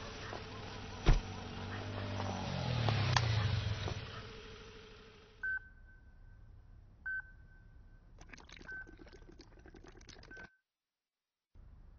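Several short electronic tones of a phone keypad being dialed, spaced apart, following a thump and some engine-like rumble, fairly faint overall.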